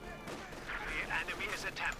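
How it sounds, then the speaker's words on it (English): Bursts of MG42 machine gun fire in a World War II strategy video game, rapid crackling volleys at moderate volume with a faint voice in the background. "MG is currently opening fire on the conscript squad"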